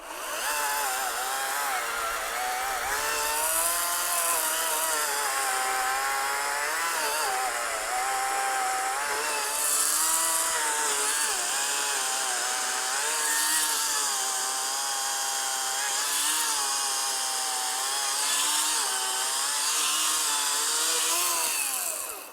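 A Kobalt 80V cordless chainsaw runs continuously near the listener, and its buzzing pitch rises and dips as it bites into wood. No one speaks.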